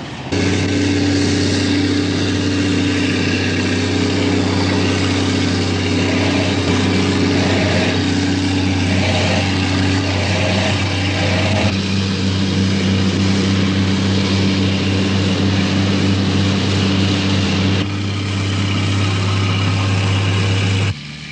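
A British Army Sappers Combat Engineer Tractor runs its engine with a steady, loud, low drone that holds throughout, its pitch and note shifting slightly partway through and again near the end. No voices are heard.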